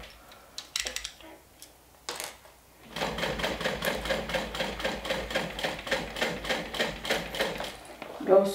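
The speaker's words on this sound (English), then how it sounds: "I might find it easier to stitch with the back down." A sewing machine stitches a 3/8-inch seam to finish a LindSport bag, running in a steady rapid mechanical patter close by after a few sparse taps and handling noises at the start.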